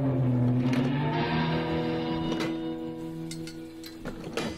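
An old car's engine in the video game Car Mechanic Simulator 2018 hums and revs with droning tones, a few sharp clicks and bursts cutting through near the end.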